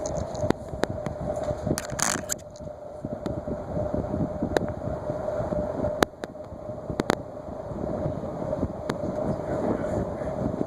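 An antique General Electric GE ceiling fan, model 44986, runs with a steady whirring drone and constant hum, broken by occasional sharp clicks and knocks.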